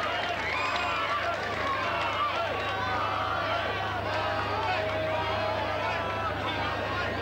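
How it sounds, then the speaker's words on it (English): A stadium crowd at a 1992 Brisbane versus Gold Coast rugby league match roars and cheers steadily in the distance, a continuous broad wash of noise throughout. "the crowd giving him a right royal reception"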